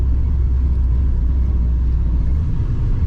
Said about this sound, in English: It says side pipes exiting, but it's not too loud.